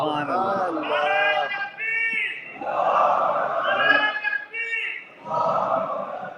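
A crowd shouts slogans in unison at a large religious gathering in Australia, loud voiced bursts of chanting rising and falling in waves with short gaps between them.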